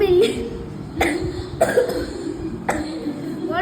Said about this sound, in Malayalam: ചുമയാണ്